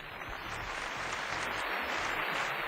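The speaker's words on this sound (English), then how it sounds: "Give them a round of applause." Audience applause for a team of two presenting a build at a competition show, a steady, dense clapping that fills the whole stretch without letting up, fairly distant and even in level.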